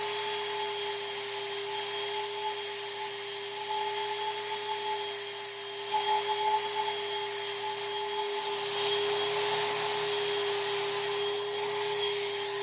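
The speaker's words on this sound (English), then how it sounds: "I'm going to tack weld the piece on and then come back and apply the welding rod." A mini electronic plastic welder tack welding a plastic piece, giving off a steady, even electric hum and whine that shifts slightly partway through, with no talk.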